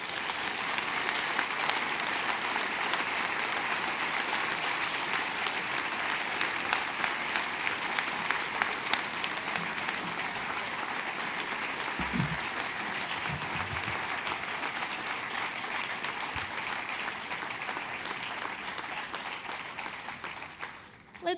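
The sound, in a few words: audience applause after a lecture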